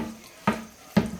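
Tap water running over hands while silicone is washed off a poured acrylic painting, a quiet steady trickle broken by two soft splashy bursts about half a second apart.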